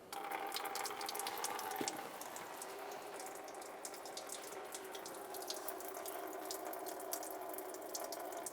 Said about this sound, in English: Let's turn this counterclockwise to start loosening it and drain the coolant